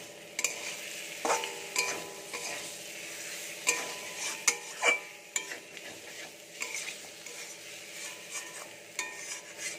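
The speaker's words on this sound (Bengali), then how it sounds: "মশলাটা কষানো হয়ে গেছে" Spice paste stir-fried in a pan for a Bengali koi fish curry: a steady sizzle with repeated scraping strokes of a spoon or spatula against the pan, close and clear, with no talking.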